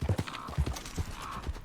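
Horse hooves clip-clop in the video game Red Dead Online, a steady walking rhythm of soft, fairly quiet hoof beats.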